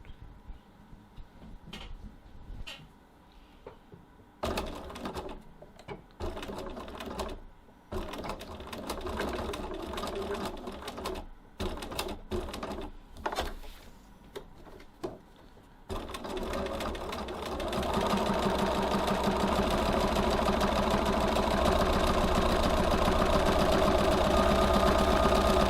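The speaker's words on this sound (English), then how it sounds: "I'm just using my foot as a guide so I can see where I'm stitching to try and keep it even." A home sewing machine stitches tote bag handle straps at about 3 mm from the edge with a 3.1 stitch length, first in short stop-start bursts, then in one long steady close run.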